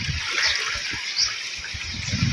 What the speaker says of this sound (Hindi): जैसे पानी लग रहा है